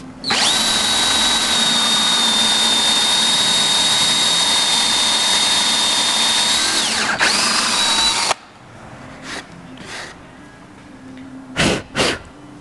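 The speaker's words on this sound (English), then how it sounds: "Put that paddle bit right in the center of where those lines cross." Power drill with a paddle bit boring into a cone thread stand built from upcycled supplies, a loud steady whine running about eight seconds before stopping, followed by a few short clicks and bursts.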